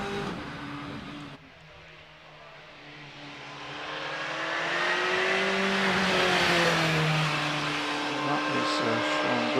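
Race car climbing the Prescott speed hill climb, an engine note swelling as the car accelerates, with the pitch rising, dipping and climbing again through gear changes, moderately distant and growing louder, with faint commentary in the background.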